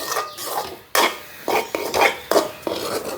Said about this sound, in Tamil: இப்போ வந்து நாங்கள் வெனிலா எல்லாம் போட்டு நல்ல வடிவாக கிண்டி கொண்டிருக்கிறோம்